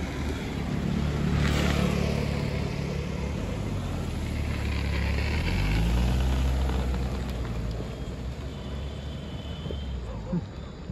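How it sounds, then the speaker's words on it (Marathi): Cars pass steadily along a road, a continuous broad engine and tire rumble that swells near the middle before easing, loud and close throughout with faint talk mixed in. "नुसत्या गाड्या यायला लागल्या"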